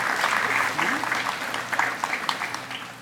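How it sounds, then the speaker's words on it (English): Applause from an outdoor audience at a Golden West College Courtyard of Honor event, a short burst of scattered clapping that thins out within a few seconds, mixed with a voice. "Round of applause."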